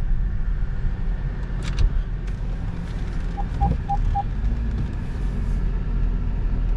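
A car drives through a U-turn with a steady low engine rumble and road noise throughout, and a short run of four light beeps partway through.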